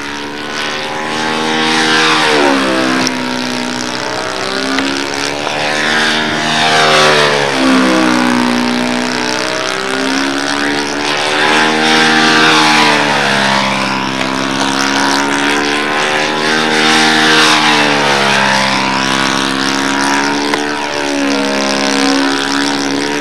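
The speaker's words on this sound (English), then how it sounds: "De La Barge on his third official flight" A propeller-driven model aircraft flies at a world championship competition, its engine droning loudly and continuously with a strong buzzing tone that sweeps up and down in pitch as it passes and turns overhead.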